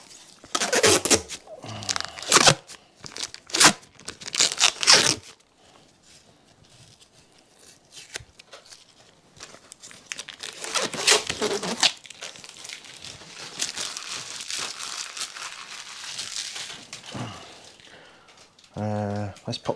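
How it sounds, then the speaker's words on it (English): A protective plastic sleeve comes off an oil pump lamp in loud crinkling, tearing bursts near the start and again midway, with quieter rustling between; a voice speaks at times. "I'm going to take the protective sleeve off this because I want to put the stickers on it."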